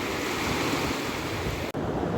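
Black Sea surf at an Odesa beach, a steady, close wash of waves mixed with wind buffeting the microphone, continuous and fairly loud with no voices.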